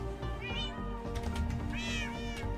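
Two distinct meows from a Minecraft cat, each a rising then falling wail, heard close over a dense, continuous background of game noise.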